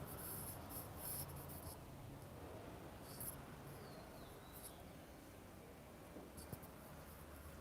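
Pen or marker scratching across a board or paper while a physics equation is written by hand, a faint continuous rubbing and scraping texture in a quiet room with no talk.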